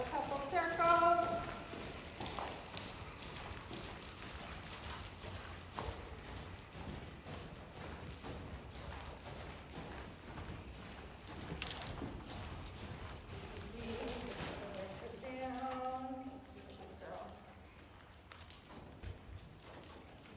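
A performance horse loping in circles in an arena, with soft rhythmic hoofbeats throughout, faint and somewhat distant, under a rider talking.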